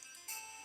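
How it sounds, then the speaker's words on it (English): A Pokemon Gold phone ringing, a brief high electronic chiptune tone that steps up partway through, quiet and clean with no voices. "Virginia Picnicker's ringing us"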